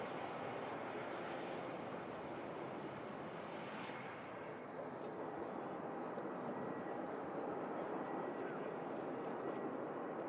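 Airliner arriving and taxiing to stand at Manchester Airport, its engines making a steady, faint distant roar that stays broad and even throughout.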